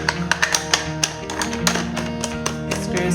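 Plastic clicks and taps of a SUSTEAS rotary cheese grater with a thin julienne blade being fitted and screwed into place, several sharp close knocks in an irregular rhythm over a faint hum.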